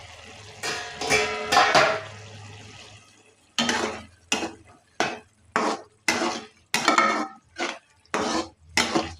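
A ridge gourd and chana dal curry is stirred in a pot after the lid comes off, with a run of close, rhythmic metal spoon scrapes and knocks against the pan and a low stove hum underneath.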